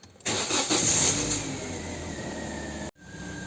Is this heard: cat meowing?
no